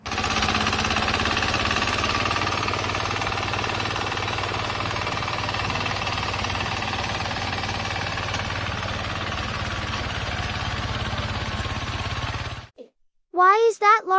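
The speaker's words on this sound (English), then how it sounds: "It's a mini crawler tractor using a rotary ditcher to dig smooth," A mini crawler tractor fitted with a rotary ditcher cuts trenches in soil, making a steady, loud mechanical churning and engine drone that runs unbroken for about twelve seconds before cutting off abruptly, followed by a short burst of speech.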